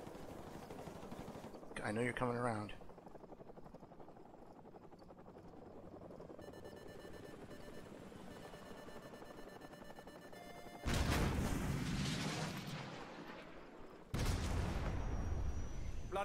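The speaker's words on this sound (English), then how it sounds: "So, grab another Stinger and fire again." Stinger missile launches at a helicopter in Call of Duty 4: Modern Warfare Remastered, with two loud roaring blasts late on over a steady rotor drone, earlier bursts of in-game noise and a brief spoken line.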